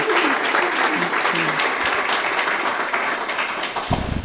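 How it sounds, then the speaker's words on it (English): An awards ceremony audience gives a round of applause, a full, steady roar of clapping from a large room that holds level before tapering slightly at the close, with faint voices mixed in. "Let's have a round of applause, please, for Christian."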